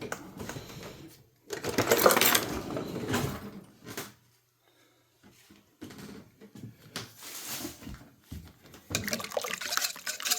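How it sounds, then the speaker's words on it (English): An electric hand mixer whisks copycat Krispy Kreme doughnut batter ingredients until smooth, whirring in loud bursts separated by short pauses, with no talking. "I want to whisk all these ingredients together until they're smooth"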